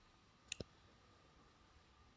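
A computer mouse gives a quick double click, then a single sharp click a moment later, close and quiet over faint room hum.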